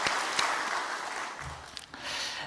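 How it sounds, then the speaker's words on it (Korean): Korean church congregation applauds during a Sunday evangelism service, the clapping fairly faint and distant, thinning briefly in the middle before swelling again. "박수로 하나님께 영광"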